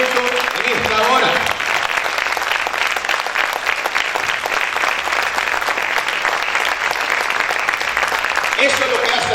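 Congregation applauding at an apostolic church service, loud dense clapping sustained for several seconds, with a brief voice at the start and again near the end.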